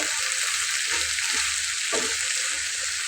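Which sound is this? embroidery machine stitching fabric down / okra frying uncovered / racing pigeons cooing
okra frying uncovered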